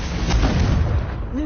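A Confringo spell blast in a Harry Potter video game, a heavy booming impact with a rumbling tail, loud and close, with a voice calling out over it.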